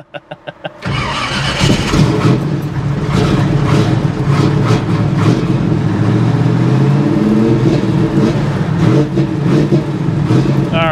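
A car engine cranks in a few quick bursts, catches, and settles into a loud, steady idle as it warms up, close by and with no one talking.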